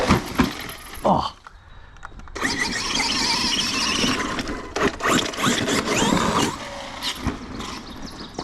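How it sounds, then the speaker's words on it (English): Redcat Racing Vigilante RC truck driving with damaged sun gears, bursts of whining, grinding drivetrain noise that surge and cut off repeatedly, close and fairly loud. "Does sound like my sun gears are junk."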